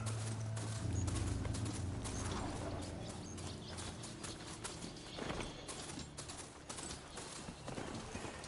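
Hooves of a video game horse clip-clop in a quick, steady galloping rhythm over a rumbling background, with a faint whinny and mechanical rattles mixed in.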